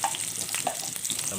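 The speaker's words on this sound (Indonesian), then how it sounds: "Ini tadi yang dirajang-rajang bawangnya kita goreng" Finely chopped garlic sizzles and crackles as it fries in cooking oil in a home kitchen, a steady close hiss with small pops and stirring scrapes throughout.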